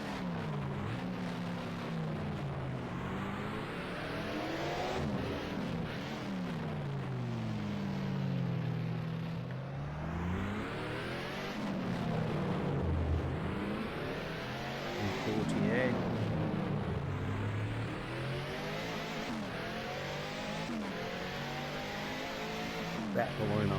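Formula 1 race car engines from a 1971 Monaco Grand Prix video game, a continuous whining roar that rises and falls with gear changes and corners, passing cars adding their own note, while someone talks throughout.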